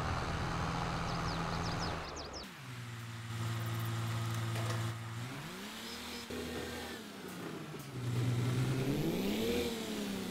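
Tractor engine in Farming Simulator 22, droning at a steady mid pitch, then rising and falling through several rev swells as it drives, with a brief lower-pitched stretch before it speeds up again; close and fairly loud, no talk.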